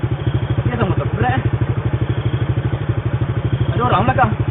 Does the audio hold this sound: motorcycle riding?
yes